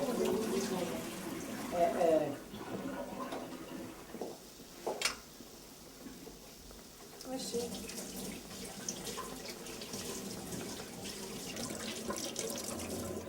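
Cold water runs and splashes into a cooking pot in bursts, with a steady trickle later, while a person talks intermittently nearby.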